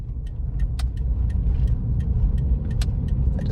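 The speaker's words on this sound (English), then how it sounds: "just heard the motor turn on." The motor of a 2004 Toyota Prius turning on after its battery was disconnected: a steady low hum and rumble close by, with faint light clicks and rattles scattered over it.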